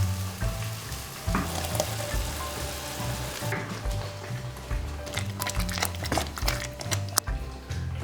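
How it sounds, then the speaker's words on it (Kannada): Chettinad mutton curry gravy with red chilli powder and ground masala paste bubbles and spits in the pan, a busy crackling simmer with scattered pops and occasional stirring scrapes, and no voices. "ಗ್ರೇವಿ ಒಳ್ಳೆ ಕುದೀತಾ ಉಂಟು."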